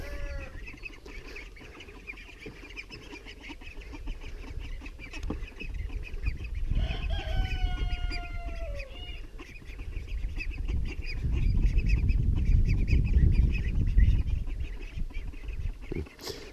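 Chickens cluck and squawk steadily nearby, with a few louder calls rising over a low rumbling background and no talking.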